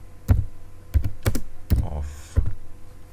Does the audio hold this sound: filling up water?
no